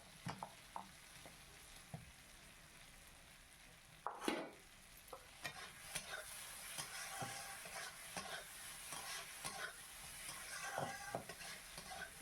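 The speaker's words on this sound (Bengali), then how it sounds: "চিংড়ি মাছগুলো সব দিয়ে দিলাম।" Small shrimp dropped into a pan of well-cooked spiced masala and stirred, with a faint steady sizzle and scattered light scrapes and clinks, growing busier after a louder stir, without talk.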